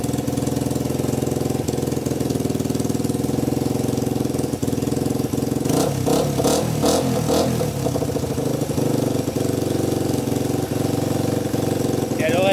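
A Honda 125 XLS motorcycle engine idling steadily and loudly up close, its chain too tight, with a burst of rougher, rapid clattering revs partway through; no talk over it.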